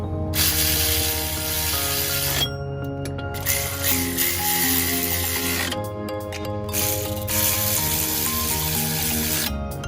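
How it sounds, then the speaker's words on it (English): Ratchet wrench tightening the mounting screws on a new AC compressor of a Cascadia DD15 truck, steady repeated clicking in bursts with short pauses, close and fairly loud, no talk. "The new compressor, we are ready to screw them in."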